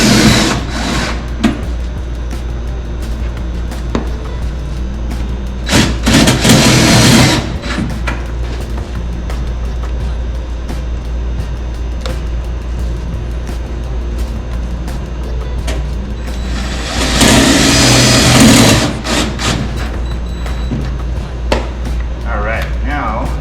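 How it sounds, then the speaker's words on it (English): Screws driven into a pre-finish metal frame with a backing plate, a steady motor whir from the driver with two longer, louder bursts as screws seat, over a constant low hum. "I'm putting screws in every other one."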